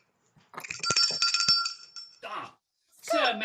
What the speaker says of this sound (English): I have the bell, so it's your turn to ring